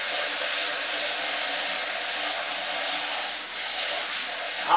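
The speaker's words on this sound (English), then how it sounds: "I'm going to get my hose and spray my filter out." A garden hose sprays water to rinse out an aquarium filter during cleaning of an algae-infested fish tank, producing a steady, close, even hiss that runs continuously with no talking.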